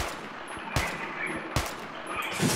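Two sharp, loud sniper rifle shots in a Minecraft video game, about a second apart, over a steady noisy game background.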